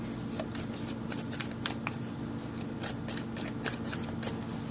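Animal spirit cards are shuffled in quick riffling bursts, a series of sharp papery flutters close up over faint background noise.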